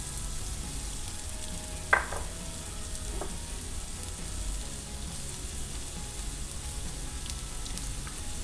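Onions frying in a little corn oil, a low, continuous crackling sizzle with one sharp utensil clink early and a few faint ticks, fairly quiet, with no voices.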